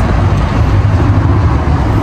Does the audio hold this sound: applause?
no